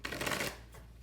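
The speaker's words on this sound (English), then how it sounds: "shuffle and mix these cards up" Tarot cards being shuffled by hand, a quick dense riffling burst of papery flutter lasting about half a second, then fading to quieter handling.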